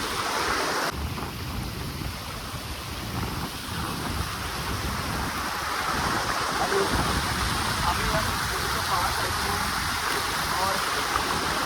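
Fast-flowing water of the Narmada river rushes in a loud, steady, broadband roar that fills the whole stretch without a break.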